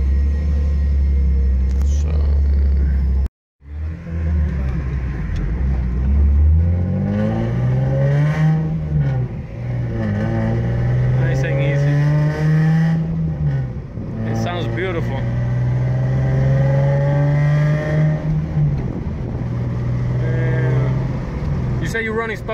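A Toyota AE86 fitted with a 2JZ VVTI engine and W58 transmission drives close by, its engine revving repeatedly with loud, rising and falling sweeps over a continuous rumble.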